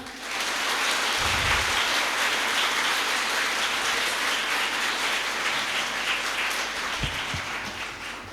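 Steady, even applause from a school audience at a Defence Day programme, a continuous wash of clapping with no voices, ending in a few scattered thumps.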